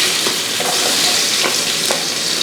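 Crushed garlic, ginger and green chilies fry in masala for chicken rice, giving a steady close sizzle with a few stirring scrapes, no voices.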